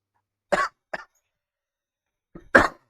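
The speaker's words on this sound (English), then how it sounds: "sorry, I'm coughing because I have" A few short, sharp coughs, two close together, then a pause before a final harsh pair, with quiet silence in between.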